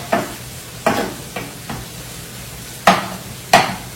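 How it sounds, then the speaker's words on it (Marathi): Onion frying in a pan in a prawn dish, with a low steady sizzle under about six sharp, close stirring scrapes at irregular intervals; no voices. "इथे आता कांदा मस्त फ्राय होतो छानपैकी"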